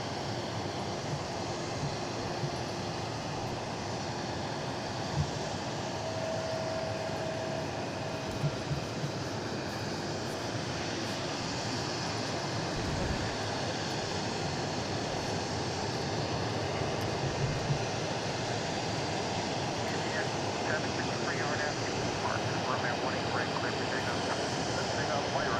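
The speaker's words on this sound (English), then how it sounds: "Let's hear these engines roar." Boeing 757 jet engines on the runway at DFW International Airport, a broad steady roar that holds throughout, with a person talking over it.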